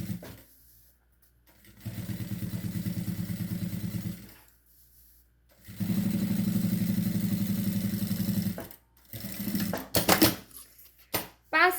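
A sewing machine stitches a seam along the lining of a makeup bag in two steady bursts of motorized whirring with a pause between them, then a few quick clicks and handling noises.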